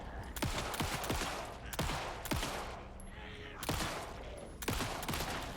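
Gunfire from shooting enemies in the video game Alan Wake II: repeated loud, sharp shot bursts in quick clusters, with a steady rumble of game background beneath.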